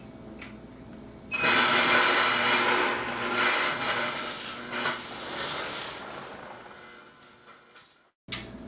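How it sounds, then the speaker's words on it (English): A Super Angel juicer grinding cabbage starts with a sudden loud, steady mechanical whir and grind that runs for several seconds, then cuts off abruptly. "I'm going to go ahead and flip this on and we're going to start juicing our cabbage"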